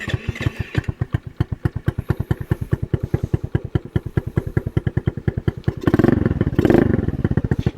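A motorcycle with a CVT and an aftermarket exhaust fires up on its electric starter and idles close by in a loud, even, thumping rhythm that briefly swells with a blip of throttle before settling back to idle.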